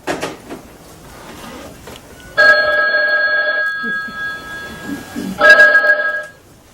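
A telephone rings twice with a bright, trilling electronic bell, each ring lasting about two seconds, separated by a pause; someone speaks briefly before and between the rings.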